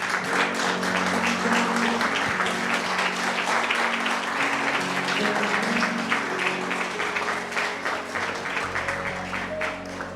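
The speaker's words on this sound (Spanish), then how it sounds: "vamos a darle un aplauso al Señor" Sustained applause from a church congregation standing to praise the Lord, a dense steady wash of clapping that fills the room, with musical tones underneath and a slight fade toward the end.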